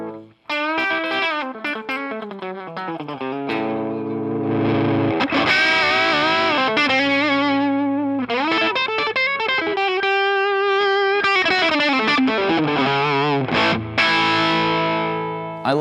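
A Gibson Les Paul Junior with heavy distortion and chorus plays a continuous run of notes and chords, its tone swelling and shifting as the volume knob sweeps from 0 to 10, without any talking.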